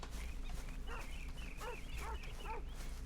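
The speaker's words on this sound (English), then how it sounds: "I heard a dog." A dog barking in a video game, a few short, rising and falling yelps repeated in a loose rhythm over steady low ambient game noise.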